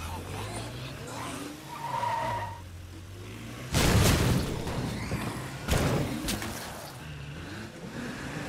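A car in the zombie survival game State of Decay 2 drives along, then two loud bursts of tire skidding break in over steady engine noise, with a voice speaking early on.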